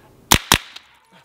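Two sharp, loud gunshots from an EPC-9 pistol-caliber carbine ring out close together, followed by a fainter distant pop and a brief low murmur.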